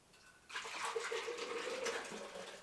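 Fresh pure orange juice pours steadily into a container, a sustained liquid gush and trickle at close range that runs for a couple of seconds after a brief quiet start.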